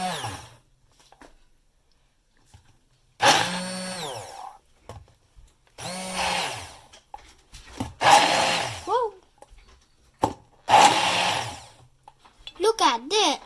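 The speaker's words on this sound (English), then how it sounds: "Now I'm going to blend it until it gets smooth." A blender whirs in several loud bursts, blending cooked apples and dates into applesauce, with quiet gaps between the runs and a voice speaking near the end.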